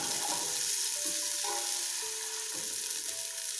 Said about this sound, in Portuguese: deixar fritar um pouquinho aqui